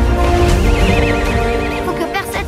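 A pony whinnies loudly in a film trailer, its wavering, strained neigh running for more than two seconds over a dense bed of other trailer sound.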